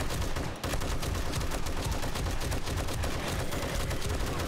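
M60 machine gun firing during a zombie horde attack in the video game 7 Days to Die, a dense, continuous stream of loud rapid shots with a brief break near the start.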